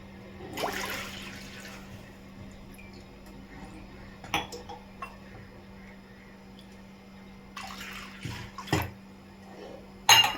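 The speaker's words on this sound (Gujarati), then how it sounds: "અહીંયા આપણે ત્રણ વાટકી પાણી લઈશું" Water from bowls is poured into a cooking pot in a home kitchen in short splashing bursts, with a few light clinks of dishes against a quiet hum.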